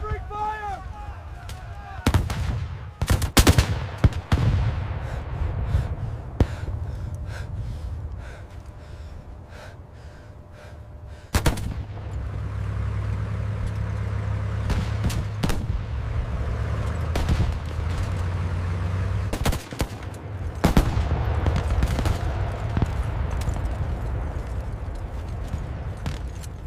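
Gunfire in a 1944 D-Day Omaha Beach battle scene, scattered loud shots and bursts amid rumbling chaos, with shouting voices and heavy battle noise throughout.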